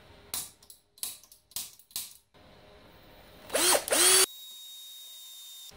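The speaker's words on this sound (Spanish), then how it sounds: "ya veréis que también la sujeta y la vamos a taladrar" Power drill boring into a workpiece clamped in a Bellota 6700 forged bench vise: four short bursts of drilling, then a louder sustained whine of about half a second that ends abruptly, with nothing spoken.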